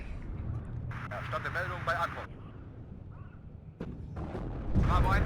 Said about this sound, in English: more artillery for counter battery